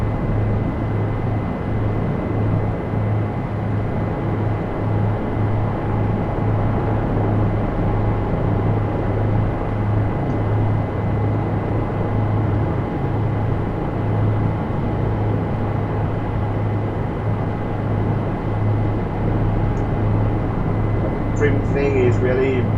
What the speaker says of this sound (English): like I said, you find your preferred way of flying the helicopter.